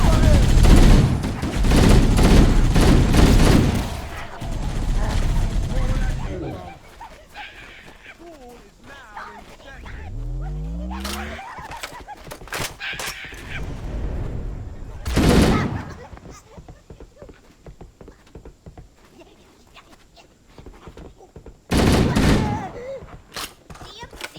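Gunfire from Halo: Combat Evolved Anniversary, with loud bursts of automatic weapon fire in the opening seconds and further sharp bursts around the middle and near the end, mixed with game effects and people talking.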